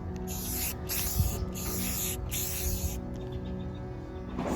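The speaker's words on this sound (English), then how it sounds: "So that is sprayed, and now I'm just going to let it dry." Spray paint hissing steadily onto furniture during a bedroom makeover, a close, continuous aerosol spray in several bursts with short pauses, no voices.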